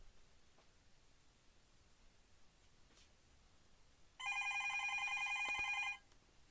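A telephone rings once: a bright electronic warbling tone about two seconds long, fairly loud against a quiet, hissy room.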